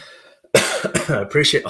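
A voice murmurs briefly, then a loud close cough bursts out, followed by a few rough throat-clearing coughs.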